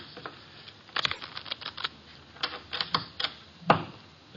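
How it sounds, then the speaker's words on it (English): Playing cards shuffled at a table, a run of quick, close snapping and riffling clicks in an irregular rhythm, fairly soft against a quiet room. "The cards are shuffled."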